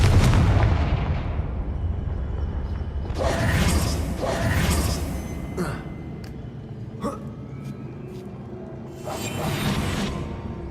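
A Confringo blasting spell fires in Hogwarts Legacy, a loud burst that starts the clip and decays, followed by softer whooshing magical bursts and a few sharp clicks, with no one talking.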